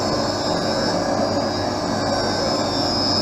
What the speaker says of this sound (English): At the end of that lever is a spinning wheel. That's what's applying the safety bevel to the back surface of the lens.